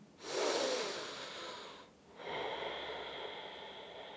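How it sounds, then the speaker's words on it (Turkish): Two slow, deep breaths, a long airy inhale then an exhale, close and fairly quiet during a guided relaxation ritual, with no talk over them. "Kocaman derin bir nefes alıp veriyorum."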